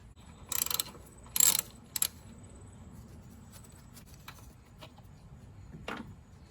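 A power gun spins out 10mm bolts on a Jeep Patriot, giving three short, sharp ratcheting bursts close together, followed by faint clicks and quiet handling.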